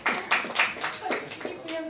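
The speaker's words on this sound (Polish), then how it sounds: "Wielkie brawa" Sparse clapping from a small group at a Polish fitness event with Ewa Chodakowska, about seven distinct claps in an uneven rhythm, close and moderately loud, with faint voices behind.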